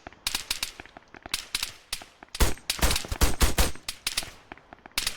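Rapid, loud bursts of automatic gunfire from an Arma military shooter, sharp cracks in quick irregular volleys with a dense cluster in the middle, close and dominant throughout.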